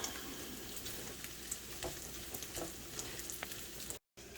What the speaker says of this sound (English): let the butter heat up. Add the jalapenos in there.